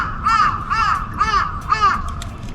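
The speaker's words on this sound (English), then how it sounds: "I love these birds, they're amazing." Crows in Japan give four loud, evenly spaced harsh caws close by, each a rasping call with short gaps between, against quiet background noise.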